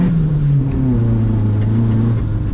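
A loud turbocharged 1996 Honda Civic D16Y7 engine at 8 psi boost roars close by, its deep, steady drone straining under hard throttle with no talking.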